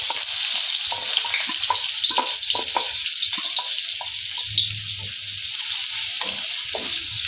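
Chopped onion and cumin seeds frying in oil in a wok, giving a steady bright sizzle with intermittent soft stirring knocks and scrapes, close and continuous, with no talking.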